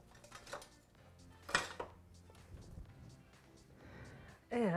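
A spatula is picked up and dishes and a metal pie pan clatter in a kitchen during chicken pot pie serving, with a sharp clink midway and a louder burst of rattling at the end, under faint background voice.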